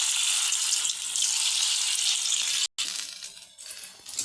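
Mustard flower fritters fry in hot oil in a wok, giving a loud, steady, close sizzle with a brief cut partway through before the frying continues.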